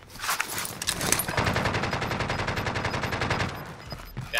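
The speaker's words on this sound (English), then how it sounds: "I'm getting shot at" Sustained automatic gunfire in Call of Duty: Modern Warfare (Rebirth trios match), a rapid, steady rattle of shots lasting several seconds, loud and close, with no talking over it.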